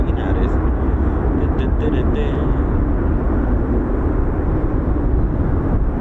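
A US Navy P-8 Poseidon near RAF Mildenhall gives off a loud, continuous engine roar that holds steady throughout, with a voice talking over it.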